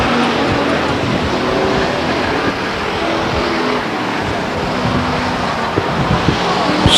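Race cars circle Stockton 99 Speedway in a continuous loud roar of engines, a dense, steady wash of motor noise with a few sharper bursts toward the end.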